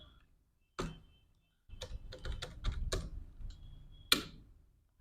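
Keys clatter on a computer keyboard as an Excel lookup formula is entered, with an isolated keystroke, a quick irregular burst of taps, then a sharper final press, close and quiet with no speech.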